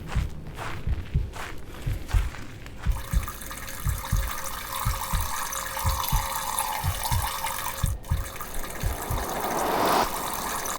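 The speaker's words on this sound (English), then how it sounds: "God, I really hope Silas doesn't hear the golden shower going on in here." A game character urinates inside a porta potty in the horror game Fears to Fathom, a steady trickling stream running under repeated soft footstep-like thumps and low shuffling, with no talk.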